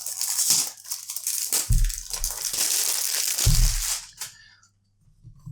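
Vintage perfume box for Carolina Herrera CH Men being unwrapped, with crisp crinkling and tearing of the wrapping in several bursts, close and fairly loud, ending in near quiet.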